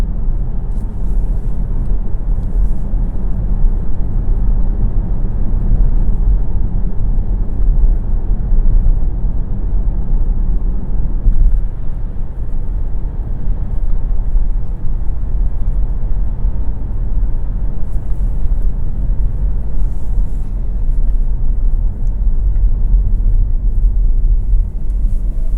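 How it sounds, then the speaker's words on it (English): Steady low road rumble and engine drone inside a 2024 Volvo S60 sedan as it drives, a constant loud hum with no talking. "Really like the acceleration this vehicle has"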